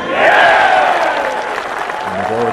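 A golf gallery applauds a birdie putt on the 18th hole of a professional tournament, a broad wash of clapping and cheering swelling at once and then fading a little. Some talk comes in near the end.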